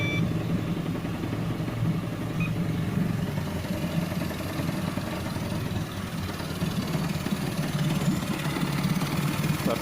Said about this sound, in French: Mais il a démarré au quart de tour.